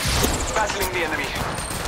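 Rapid gunfire bursts from the Apex Legends Mobile video game rattle almost continuously across the short stretch, loud and busy, with intermittent game chatter underneath.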